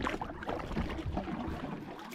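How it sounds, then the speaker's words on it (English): Canoe paddling alone on a lake in Bowron, with soft, continuous water sloshing and a steady outdoor wash, close and moderately quiet, with no talk. "So I'm out paddling alone."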